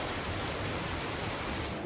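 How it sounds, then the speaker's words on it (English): Steady rain falls as a dense, even hiss of drops on surfaces, continuous and unchanging, with no voices. "Some more rain."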